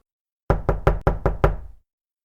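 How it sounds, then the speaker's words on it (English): Six sharp, evenly spaced knocks land on a front door, close and loud, each with a short resonant ring, then silence. "Vass knocked."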